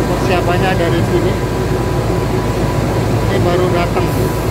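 A train rumbles steadily through an Indonesian railway station, with a constant low mechanical hum and people talking over it.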